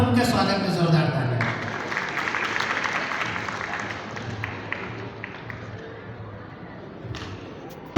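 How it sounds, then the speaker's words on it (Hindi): Audience applause greets a poet stepping up at a Hindi poetry gathering, a steady dense clapping that runs the whole stretch and slowly thins toward the end. "आप लोग उनके स्वागत में जोरदार तालियां।"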